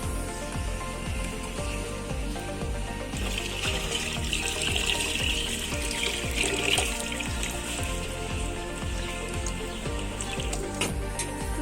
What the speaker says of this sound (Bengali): এখন মাংসগুলো পরিষ্কার করে ধুয়ে নিব